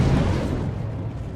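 A random explosion in the video game Star Citizen: a single low, rumbling blast that starts at full force and slowly decays over about a second, with no talk.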